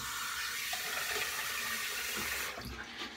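Water runs steadily from a tap at a bathroom sink while a face is wetted before shaving, a continuous close-up rushing splash that changes slightly toward the end, with no speech.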